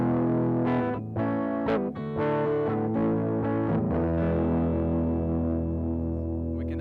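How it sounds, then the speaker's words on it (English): Heavily distorted synthesizer tones through an Endorphin.es distortion pedal, thick and buzzing, with sustained chords and a few sharper attacks, steady and loud throughout. "I'll turn up the distortion a bit."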